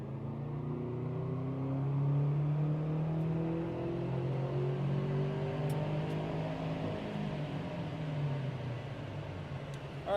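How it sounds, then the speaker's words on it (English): A Subaru Bugeye wagon with a JDM EJ205 engine makes a wastegate boost pull, its engine note droning and climbing steadily in pitch, heard from inside at moderate loudness, then easing off near the end. "All right, that was a nice wastegate boost pull."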